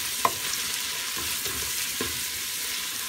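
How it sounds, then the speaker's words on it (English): Onions sautéing in a pan make a soft, continuous sizzle with a few light scraping stirs spread across a few seconds, close by and alone. "So now I'm going to saute the onions first"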